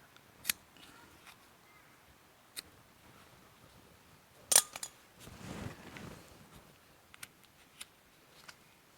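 Scissors cut the pull starter rope of a Honda Harmony II HRT216 push lawn mower: sharp close snips and clicks, one louder crunching cut midway followed by brief handling rustle, in an otherwise quiet space.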